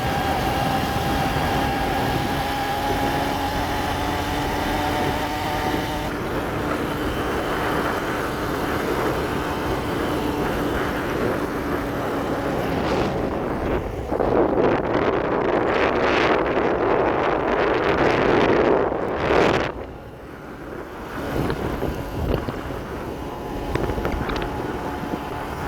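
A motorcycle ride to a far-off village barangay, with a steady engine drone under heavy microphone wind buffeting that swells into a loud rushing gust midway, then drops back to a lighter hum.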